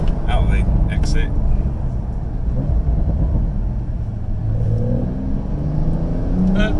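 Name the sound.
Porsche 992 Carrera 4S car driving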